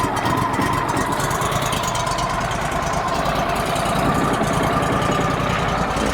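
The engine of a Wood-Mizer LT35HD sawmill idles while warming up, a steady, loud, close chugging rumble with a faint knocking rhythm throughout.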